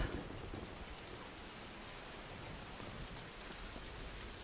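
Steady rain hisses and patters in Tomb Raider 2013, a constant broadband wash of falling water, fairly faint and unbroken, with no voices.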